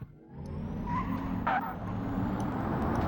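Car engine in the BeamNG.drive driving game, a steady low engine drone picking up after a brief dip, with a short squeal or skid-like streak midway, moderately quiet and without speech.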